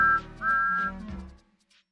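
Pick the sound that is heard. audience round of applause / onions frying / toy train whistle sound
toy train whistle sound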